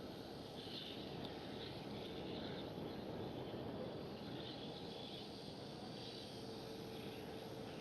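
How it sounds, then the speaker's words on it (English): Qatar Cargo Boeing 777 freighter landing on runway 06 at Amsterdam Schiphol, a broad steady jet roar with a faint whine, heard from a distance outdoors with wind and no talk. "Qatar Cargo 777 freighter."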